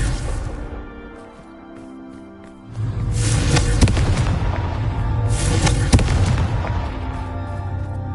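Confringo fire-blast spell in Hogwarts Legacy: a loud, booming burst of fiery explosion that hits near the three-second mark and sustains with crackling blasts, a second sharp crack landing around six seconds, with no talk.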